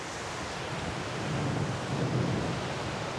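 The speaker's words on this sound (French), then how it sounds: "Les vagues arrivent de chaque côté, à droite et à gauche, et elles se rejoignent sur le petit banc de sable qui est là." Waves roll in from both sides and meet over a small sandbar on a tombolo in Martinique, a steady wash of surf that swells slightly midway, with wind noise and no voices.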